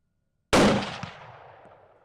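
A single sharp rifle shot cracks out loudly during a ranch deer hunt, bursting from silence and then rolling away in a long fading echo.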